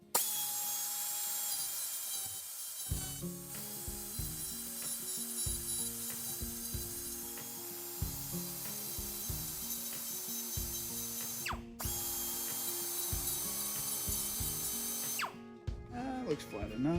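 A drill bores pilot holes into a seized nut on a Subaru Legacy ball joint knuckle, a close, steady grinding whir with rhythmic ratcheting pulses, briefly stopping twice before resuming.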